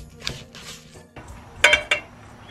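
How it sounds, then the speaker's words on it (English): A metal utensil mixing ground mustard seed in a dish, with a few scraping strokes and sharp clinks against the dish close by, alone. "What I'm gonna do right now, just mix them up."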